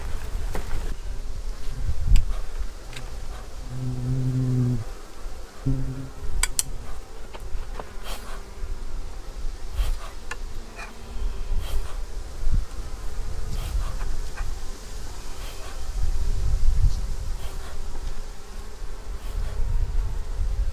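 Honeybees hum in a dense, continuous drone from an open hive whose frames are full of brood, with occasional clinks of handling nearby.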